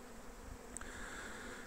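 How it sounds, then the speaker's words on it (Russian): Honey bees buzzing around their hive entrance during a rapeseed bloom, a faint, steady insect drone with no talk. "Значит, пчелы, как видите, работают."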